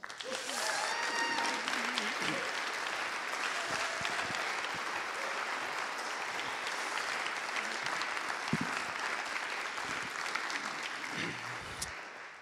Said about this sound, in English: let's give a round of applause for Tom Holland.